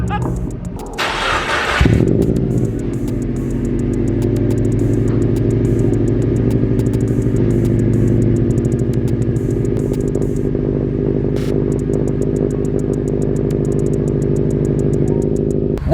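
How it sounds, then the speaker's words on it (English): A Subaru WRX fitted with a Nameless 4-inch axleback exhaust starts up, then idles loud and deep with a steady low drone and short revs, close by, with no talking. "all you need to do is put your foot on the gas to rev it"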